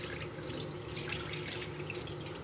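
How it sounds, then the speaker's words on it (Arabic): Water being drained off boiled rice, a continuous pouring and splashing rush into a sink, steady and close. "اهو هنصفي الميه كلها بالشكل ده كده"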